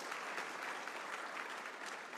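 Steady audience applause fills an evening honors gathering, a dense wash of clapping hands held at even loudness throughout with no voices over it.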